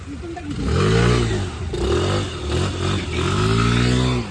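Motorcycle engine revving while stuck in water with water getting into the silencer, loud nearby revs rising and falling in repeated surges, with sputtering clatter between them.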